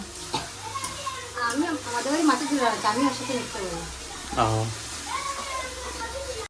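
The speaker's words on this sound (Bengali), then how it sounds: "আমি মাছ ভাজছি" Fish frying in a pan gives a steady sizzle that runs throughout, partly covered by several people talking over it.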